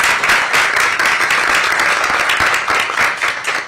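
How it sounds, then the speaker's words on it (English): Loud, sustained applause from a room of guests at a mayor and council breakfast, held at Clyde's at Gallery Place restaurant, welcoming the restaurant team. The clapping is dense and steady throughout, with no talk over it. "Let's give them a big round of applause."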